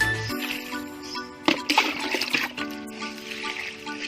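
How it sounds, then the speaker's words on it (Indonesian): Liquid fertilizer poured onto the soil around the base of a longan tree, a steady trickling and splashing of water running for several seconds with a brief louder splash near the middle. "Langsung kita siram seperti ini saja sekeliling dari pohon kelengkeng kita."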